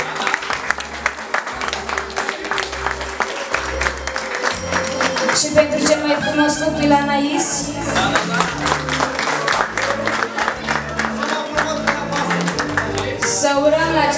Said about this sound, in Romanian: Vă rugăm frumos aplauze și pentru bunici și pentru moși.